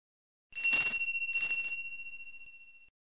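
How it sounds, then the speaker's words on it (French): Two bright rings of a bicycle bell, the second ring left to fade out slowly into silence. "La sonnette de vélo."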